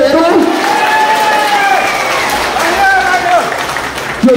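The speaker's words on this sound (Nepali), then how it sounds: "सबै संगठन र क्षेत्र बलियो बनाउन तपाईहरु लाग्ने कि नलाग्ने एकचोटि ताली बजाएर हेरौँ" A crowd at a political rally claps and cheers for a district party chairman in Kathmandu, a continuous loud roar of applause with shouting voices riding over it, filling the whole stretch.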